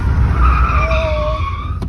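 A car's tyres skid and squeal loudly, smoking as they spin, with a steady engine roar underneath and several screeching tones sustained across the whole stretch.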